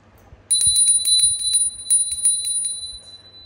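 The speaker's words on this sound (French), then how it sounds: "teinter un petit peu la cloche, simplement pour dire, voilà, nos amis, qu'on commence ce tirage" A small bell rings at the start of a tarot card reading, several bright tinkling strikes in quick succession that ring out clearly and then fade, with no talk over them.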